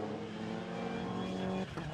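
Mini JCW race cars on the green flag lap at Donington Park, a steady loud engine drone with sustained tonal hum, easing off briefly near the end before picking up again.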